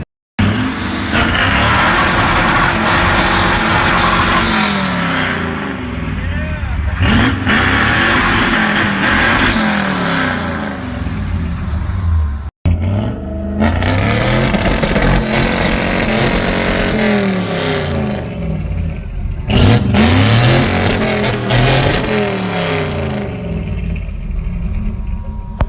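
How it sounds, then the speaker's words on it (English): Ford Rangers and stock Jeeps rev their engines at an outdoor car meet, loud rising and falling engine roars close by, repeated throttle blips in two long stretches with a brief break between. "the two, like, I guess not like, you know, like Rangers and like stock Jeeps were revving their motors and stuff"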